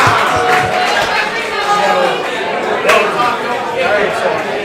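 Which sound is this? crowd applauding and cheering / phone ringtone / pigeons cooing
crowd applauding and cheering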